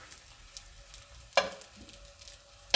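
Reshmi seekh kebabs frying in a pan over low heat, a soft, quiet crackle and sizzle with two sharp spitting bursts, no talking.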